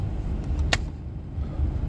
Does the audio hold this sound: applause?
no